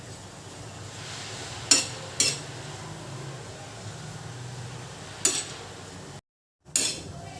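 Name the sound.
chillies being turned on a hot griddle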